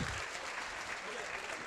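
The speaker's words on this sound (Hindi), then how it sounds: "तालियां बजाकर अनुमोदना" An audience claps in approval at a Digambar Jain religious gathering in Mandla, the applause steady, dense and sustained throughout without a break.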